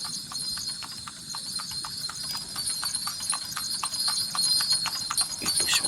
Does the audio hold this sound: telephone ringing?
no